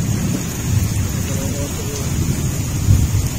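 Heavy rain pouring steadily in a flooding home, a dense close hiss with low rumbling mixed in, continuous without pause.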